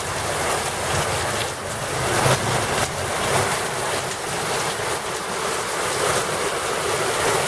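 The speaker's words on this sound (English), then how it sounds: "We got a little rain shower happening here today." Light rain shower falling outside the front of a house in Cuernavaca, Mexico, a steady, even hiss of close rainfall with soft gusty texture and no voices.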